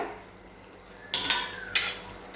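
Roasted peanut powder is stirred into Khandeshi eggplant bharit in a pan, heard as two short, fairly loud bursts of scraping and stirring after a quiet start.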